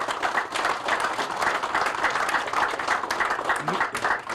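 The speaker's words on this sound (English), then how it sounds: "please give them a round of applause, because they made this happen." Steady applause from a crowd at a ribbon cutting for a canal pump station, dense and continuous throughout, fairly loud with no pauses.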